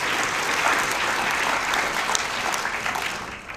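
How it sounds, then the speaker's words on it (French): Audience applause fills an evening opening event for a comic book festival at the Capitole theatre in Lausanne, a steady dense clapping from a large crowd that stays loud throughout with no voices on top. "Je crois qu'on peut aussi l'applaudir."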